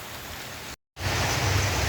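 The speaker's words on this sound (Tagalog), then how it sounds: "ang lakas ng ulan" Heavy rain pours in a dense, steady hiss, briefly cut off by a gap of silence before resuming even louder and fuller, with no voices over it.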